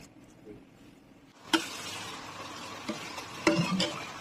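Coca-Cola with cut ginger heats in a pot, giving a soft steady sizzling hiss with a few sharp clinks and stirring knocks, close and moderately quiet.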